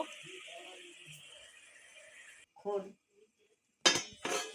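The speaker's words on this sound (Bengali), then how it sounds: "দইটা দিয়ে একটু ঢাকা দিয়ে দেব।" Lid placed on a cooking pot holding yogurt with onion, ginger and garlic. Sharp close metallic clatters come near the end after a quieter stretch, with a voice speaking earlier.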